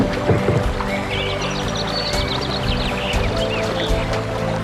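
Water splashes and sloshes around a small boat as it moves, with irregular watery gurgles and knocks close by.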